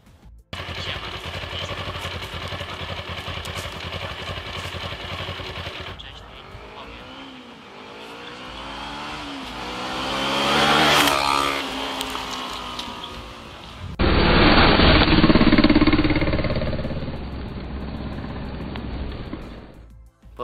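A 150-kilogram motorcycle rides over a Samsung Galaxy S8 phone, its engine loud and close, rising and swelling as it passes, then settling into a steady, rough idle. No one speaks.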